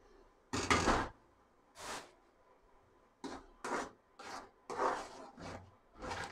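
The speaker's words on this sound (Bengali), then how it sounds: "অনবরত এরকম নাড়তে হবে।" A pan of chickpea lentil halwa being stirred, producing close scraping and rubbing bursts in an irregular rhythm of about seven strokes with brief quiet gaps between them and no talking.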